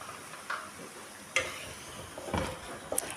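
Ground tomato paste hits hot oil in a pan for a dhaba-style potato masala, giving a faint sizzle under a few scraping, clicking stirs of a spoon.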